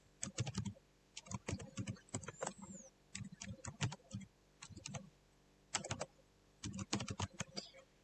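Rapid bursts of typing on a computer keyboard while filling in an online sign-up form, close and crisp, in several separate runs of keystrokes with short pauses between them.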